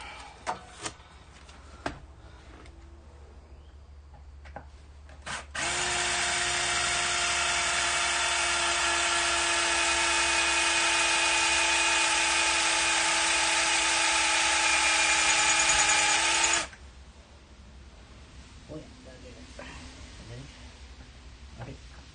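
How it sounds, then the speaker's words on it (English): A high-pitched power drill whines steadily for about ten seconds, drilling out a metal track pin on an Argo vehicle, loud and close, with a few sharp clicks and taps before and after. "Need to drill some more."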